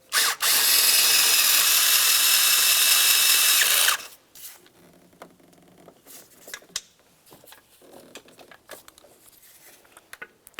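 A ratchet snugs up a bolt on the oil fill tube bracket of a 1998-2002 Lincoln Navigator engine, opening with a loud, steady mechanical burst for several seconds, then trailing into scattered light clicks and taps nearby.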